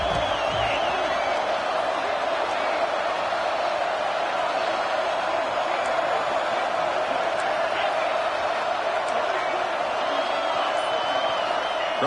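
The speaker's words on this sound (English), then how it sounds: "here comes the noise. This crowd is trying to inspire this defense to make a big red zone stop." Dense, steady roar of a football stadium crowd making noise to rally the home defense during a red zone stand in Texas, holding at an even level for the whole stretch with occasional higher shouts and a broadcast voice underneath.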